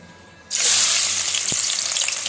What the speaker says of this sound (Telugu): నూనె పెట్టేసి దీన్ని ఉల్లిపాయ ముక్కలు పచ్చిమిరపకాయ ముక్కలు వేసుకోండి